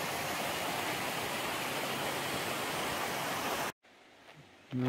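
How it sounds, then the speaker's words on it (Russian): Red Rock waterfall on Lewis Creek roars as a steady, dense broadband rush for most of the stretch, then cuts off abruptly to near quiet with faint sounds at the end. "вот мы добрались до водопада Red Rock."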